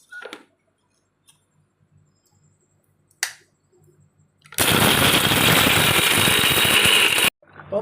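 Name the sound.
mixer grinder grinding hibiscus flowers for rasam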